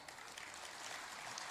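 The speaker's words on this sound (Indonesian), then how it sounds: "tepuk tangan untuk Pak Ara." Faint audience applause at a ministerial event in Indonesia, a brief, steady patter of distant clapping.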